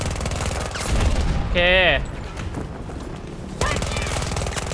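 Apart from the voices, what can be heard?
gunfire in the video game Battlefield 2042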